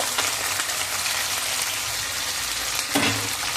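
Onion, raw mango, green chili and curry leaves hit hot oil already frying fenugreek seeds, giving a loud, steady, close sizzle that holds throughout, with a brief clatter near the end.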